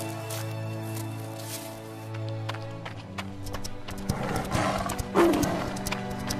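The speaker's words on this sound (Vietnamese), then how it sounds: "Thôi nguy to, sói dữ." Wolf in a 3D animated fairy tale, growling and snarling loudly up close amid dramatic background music, with bursts of animal noise toward the end.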